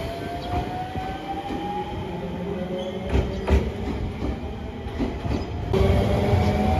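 A JR Shikoku 7000 series two-car local train at Matsuyama Station, bound for Iyo-Saijo: a steady rolling rumble with rail clicks and a thin, sustained wheel squeal, fairly loud and close.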